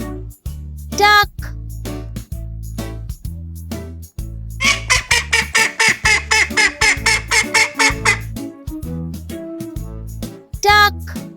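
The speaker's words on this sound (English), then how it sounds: "Duck." Duck quacking in repeated loud calls, a run of quick rhythmic quacks in the middle between single honking calls, with a voice speaking between them.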